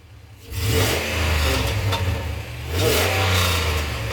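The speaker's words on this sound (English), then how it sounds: "Hit the throttle like I was." A 2002 Dodge Dakota pickup, rusty and being parted out, revs its engine twice: a loud, close surge of rising engine roar, a brief dip, then a second throttle blip that holds steady.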